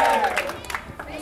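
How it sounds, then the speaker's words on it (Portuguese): A family gathering applauds Rai: a brief round of clapping from a small crowd, starting under a voice that trails off, then scattered claps mixed with murmuring. "Palmas pro Rai!"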